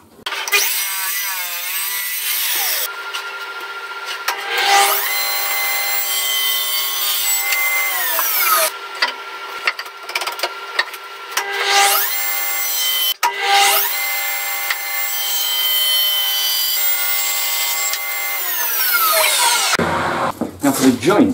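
A wooden board is ripped lengthwise with a power tool, a loud whining cut with rising and falling pitch in two long passes, broken by brief pauses and ending in knocks and handling noise.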